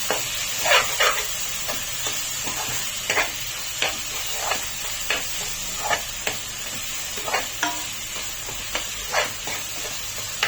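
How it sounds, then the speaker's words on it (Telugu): Egg curry masala being stirred in a pan, a soft continuous sizzle broken by repeated scraping and clinking strokes of the spoon at an uneven rhythm throughout. "వేసిన తర్వాత ఇవన్నీ కలుపుకొని"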